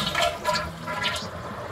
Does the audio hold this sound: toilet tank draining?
yes